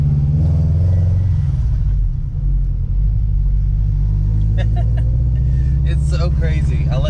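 A loud Subaru BRZ engine rumbles deeply close by, revving unevenly as it pulls away, with brief voices near the end.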